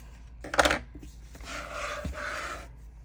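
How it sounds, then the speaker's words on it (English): Scissors trim a small spot of paper in a creative journal spread: a short, quiet snipping and rustle, then a soft scraping sound, alone with no talk. "I just have one little spot here that I'm going to trim with the scissors."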